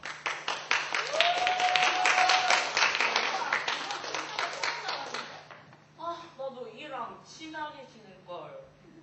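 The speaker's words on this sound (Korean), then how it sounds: "큰 박수로 맞이해주세요" Audience applause welcoming two hosts at a church play's reunion scene, a loud round of clapping for a few seconds that tapers off as voices begin speaking.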